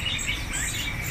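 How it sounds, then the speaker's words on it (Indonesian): Faint high chirps from a small bird, a sooty-headed bulbul, over a soft background hum, brief and a little distant, with no one talking. "Kalau itu ada kutilang. Kutilang emas."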